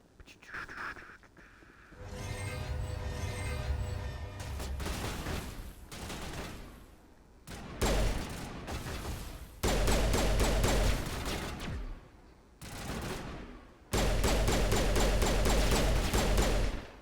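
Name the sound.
gunfire from shooting an alien in Mass Effect video game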